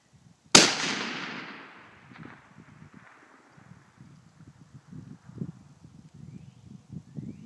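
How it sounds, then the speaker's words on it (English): A .308 rifle fires at a target about 1670 yards away, one sharp loud crack followed by a rolling echo that fades across the open land, then quiet outdoor rustling and faint thuds. "I'm going to fire that same shot."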